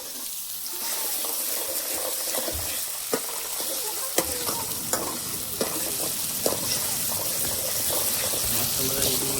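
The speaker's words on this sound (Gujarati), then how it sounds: "મસ્ત મજાની ડુંગળી મૂકી દીધી છે ફ્રાય થવા" Onion sizzles as it fries in hot oil in a pot, a steady crackling hiss punctuated by sharp clinks and stirring scrapes, with talk faintly underneath.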